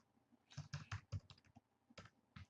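Computer keyboard keys are tapped in a quick burst of several clicks, then a pause and a few more scattered keystrokes, quiet and close.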